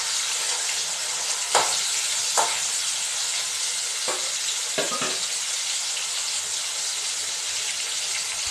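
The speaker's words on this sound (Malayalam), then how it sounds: "എണ്ണ ചൂടായി തുടങ്ങി. അപ്പോൾ നമ്മൾ ഇതിന് മീനെടുത്ത് ഒരു 2-3 എണ്ണം ഇതിലേക്ക് ഇടുക." Two or three pieces of fish sputtering in hot oil, a loud continuous sizzle close by with a few sharp crackles and spatters breaking through, no voices.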